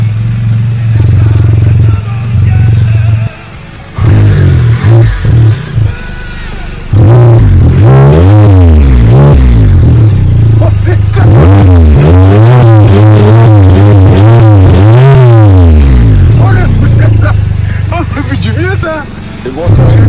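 Can-Am Spyder F3-S three-wheeler with an Akrapovic exhaust, warm engine idling loudly nearby then revved up and down in repeated rising and falling surges, with people talking over it.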